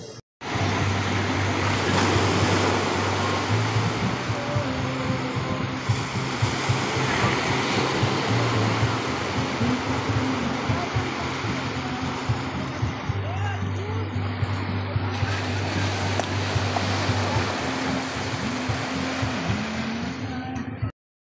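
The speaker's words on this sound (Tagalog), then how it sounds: "Medyo malakas yung alon." Strong ocean surf roaring steadily throughout at a beach in Real, Quezon, a dense continuous wash of waves with a low engine-like hum underneath.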